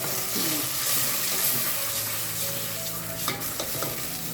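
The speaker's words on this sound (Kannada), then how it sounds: "ಇಷ್ಟು ಆದ ತಕ್ಷಣ ರುಬ್ಕೊಂಡು ಬಂದಿರೋ ಖಾರನ ಹಾಕೊಳ್ತಾರೆ" Ground chili paste frying in a garlic tempering, a steady close sizzle with scraping stirs and a few clinks of a utensil against the pan, no voices.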